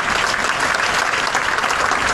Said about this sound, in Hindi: इसमें तो हमें ताली बजानी चाहिए एयरलाइन के लिए